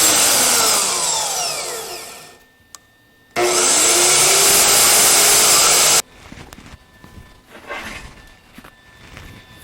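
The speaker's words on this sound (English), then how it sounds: "if it's a little sticky, just run the die grinder in there" A die grinder running on an engine stand brake adjuster: a loud, close, high whine that winds down, briefly stops, then roars again at full speed before cutting off to quieter handling noise.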